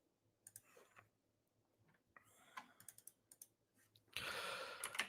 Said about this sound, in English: I need to type this one.